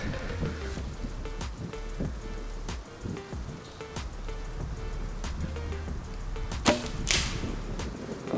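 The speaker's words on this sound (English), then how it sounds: "Hit a sapling." An arrow from a Black Widow longbow thuds sharply into a sapling outdoors, a single near impact standing out against a quiet background of faint rustling and soft ticks.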